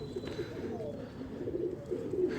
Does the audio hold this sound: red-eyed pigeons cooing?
yes